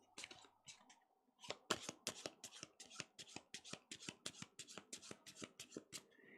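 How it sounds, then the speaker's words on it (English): A deck of game cards is shuffled by hand during a solo tabletop game, a long run of crisp, rapid riffling snaps and ruffles, close and fairly quiet, with no talking. "So I guess we'll shuffle this."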